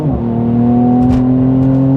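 A 400HP Mercedes C43 AMG accelerates hard, its engine note climbing steadily in pitch as a loud, smooth drone, heard close with no voices.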